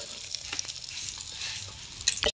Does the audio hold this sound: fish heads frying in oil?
yes